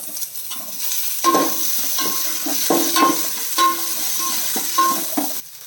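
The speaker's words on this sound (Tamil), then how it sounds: "வதக்கிறதுக்கு ஒரு தக்காளி போட்டுட்டோம்" Tomato sautés with onions and garlic in a pan for a Kerala-style fish curry, a constant sizzle broken by repeated scraping stir strokes from a spatula, close and fairly loud.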